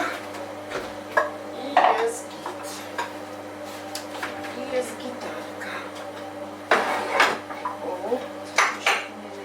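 Dishes and cutlery clatter as a home dishwasher is emptied in a kitchen, with irregular clinks and bursts of rattling plates and silverware, loudest near the end, over a steady low appliance hum.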